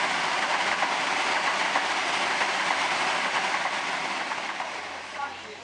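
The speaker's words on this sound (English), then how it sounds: "We should have a Waratah passing the up main." A Sydney Waratah electric train passes a suburban station on the up main line, giving a loud, steady rush of wheel and rail noise that fades slightly toward the end.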